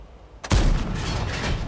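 A T-10 heavy tank's cannon firing at Prokhorovka in World of Tanks, one loud, booming shot bursting out of a quiet hum and rolling into a long, rumbling reverberation.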